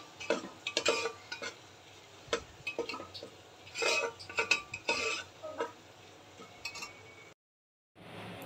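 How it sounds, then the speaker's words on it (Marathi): A spoon stirs and scrapes in a pan while spices are sautéed for a black peas curry, giving irregular clinks and scrapes at a modest level, with a brief silent gap near the end. "आता हेही आपल्याला 1-2 मिनिटं परतून घ्यायचं आहे।"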